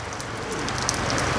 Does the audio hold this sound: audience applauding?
no